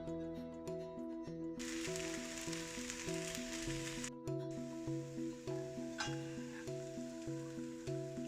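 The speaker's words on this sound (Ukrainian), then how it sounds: "Коли млинець посмажився з однієї сторони, перевертаємо на іншу." A meat pancake (mlynets) fries in a pan with a continuous soft sizzle, heard under steady, prominent background music.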